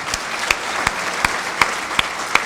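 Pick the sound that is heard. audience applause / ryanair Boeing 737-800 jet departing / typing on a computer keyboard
audience applause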